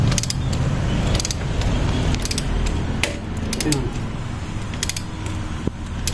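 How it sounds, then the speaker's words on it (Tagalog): A wrench tightens a bolt on the front shock suspension of a Yamaha Aerox V2 scooter while a Griffin 180i JVT shock is fitted, giving rapid metallic ratchet clicks in bursts over a mechanical background. "gamitan natin ng wrench para mas mabilis at hindi tayo masyadong mapagod"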